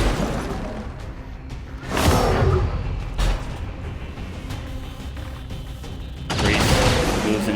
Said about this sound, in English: So the trooper uses his grenade.